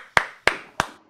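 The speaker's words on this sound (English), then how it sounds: "We are clapping for you." Four separate hand claps ring out at a steady, unhurried pace, close and crisp with nothing else around them, at a children's home gathering in Kenya.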